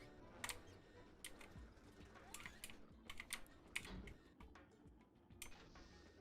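Keyboard keys clatter in quick irregular bursts while someone plays WALL-E on a PC with keyboard and mouse, the clicks close and crisp over a low room hum, with no talking.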